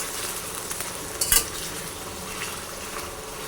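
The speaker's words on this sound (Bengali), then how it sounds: "লাল করে ভেজে নেব।" Sliced potatoes frying in oil in a pan, a constant close sizzle with light stirring scrapes and a sharp metallic clink partway through, no voices.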